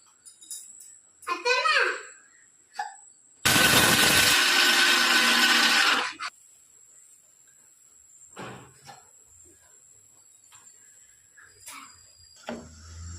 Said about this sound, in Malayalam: കടല മിക്സിയിലിട്ട് പൊടിക്കാൻ പോകുന്നു.